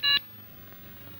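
A short burst of phone keypad dialing tones at the start, clear and close, followed by a quiet room hum.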